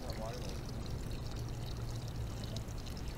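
A stream of fresh water pours steadily in Florida while a manatee drinks from it, a continuous close splashing rush with a voice talking over it throughout.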